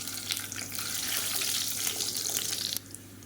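About ten garlic cloves dropped into hot oil for a spicy chutney, giving a steady, bright hiss of sizzling that holds level and then drops off sharply near the end.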